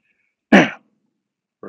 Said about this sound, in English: Gonna clear my throat.